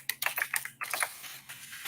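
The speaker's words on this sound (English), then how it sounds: "Don't mind me typing." Keys clattering on a computer keyboard in quick irregular bursts, close and fairly quiet, with short pauses between runs of keystrokes and no voices.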